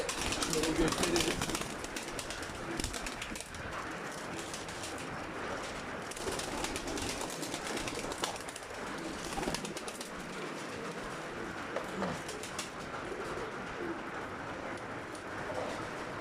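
Pigeons in a loft full of eggs and young birds coo and rustle continuously at close range, forming a dense, steady background.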